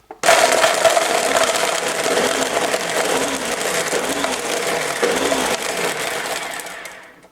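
A Ninja blender pulses pear and ice, with a loud, close grinding and crunching as blades chop the frozen chunks, surging slightly in bursts over several seconds before spinning down.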